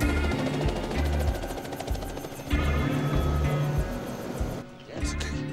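A helicopter flies excavator parts in to a jade mining site, its rotors thumping in a loud, steady, pulsing beat with an engine whine above, briefly dipping near the end.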